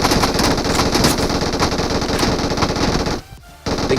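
An MG3 machine gun in a video game fires a long, loud burst of rapid shots for about three seconds, pauses briefly, then resumes firing.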